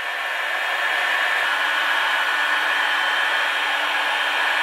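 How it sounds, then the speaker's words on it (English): Heat gun blowing steadily on a Lambretta scooter stud, a loud continuous hot-air roar with a faint whine running unbroken and close throughout. "to heat this stud up, and then when we've heated it up, we're going to take a measurement of it. Obviously on the hottest part where the heat gun is."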